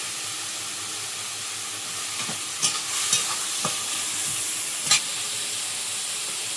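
Onion, garlic and ginger paste with tomato frying in oil over cumin seeds for an egg curry: a steady bright sizzle with a few sharp stirring scrapes and clicks, no voices.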